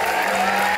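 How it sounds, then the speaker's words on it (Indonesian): Dense, steady clapping from a studio audience on the Indonesian game show Family 100, a brief continuous wash of applause with no voices on top. "Tepuk tangan dong untuk mereka dong."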